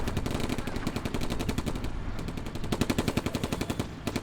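Machine gun fire in the WWII strategy game Combat Mission, rapid sustained bursts of automatic shots in a fast even rhythm, moderately loud with a short pause midway, no talk.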